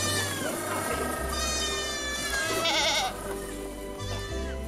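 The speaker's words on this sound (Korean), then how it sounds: "산비탈 뛰어다니는 녀석들은 한 부부가 키우는 흑염소들입니다." Black goats from a herd of about a hundred on a slope at the edge of Deogyusan mountain bleat loudly and almost continuously, several overlapping calls close by.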